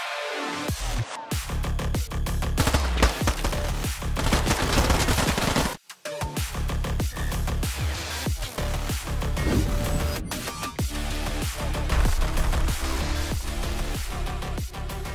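Video game gunfire in dense, rapid bursts of automatic shots and repeated single reports, loud and close, with brief pauses and nearly continuous firing.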